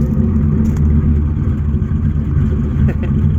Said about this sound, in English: Let's hear the big block.